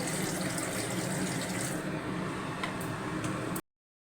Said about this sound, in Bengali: মশলা কষানো হয়ে গেছে, জল দিয়ে দেবো।